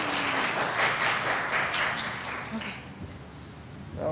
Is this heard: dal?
no